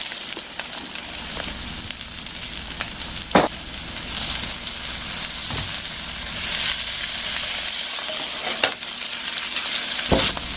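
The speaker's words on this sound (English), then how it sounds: "So I'm going to be toasting my broccoli. Next, I'm going to add my cauliflower." Blanched cauliflower and broccoli stir-fried in a pan for a beef and broccoli stir-fry, giving a steady close sizzle with scraping stirs and a few sharp clacks of the utensil against the pan.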